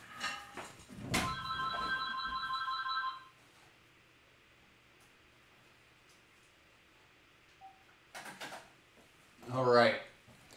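A telephone rings in a studio with a warbling electronic trill lasting about two seconds, followed by quiet, a few small clicks and knocks, and a brief voice.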